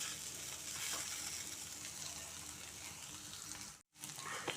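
Okra (bhindi) fries in a pan with a soft, continuous sizzle that cuts out briefly near the end before resuming.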